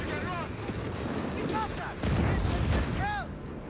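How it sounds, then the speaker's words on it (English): Artillery fire in Company of Heroes 3: a deep boom lands partway through amid ongoing battlefield rumble, with brief radio-like unit voice chirps in the mix. "Artillery incoming!"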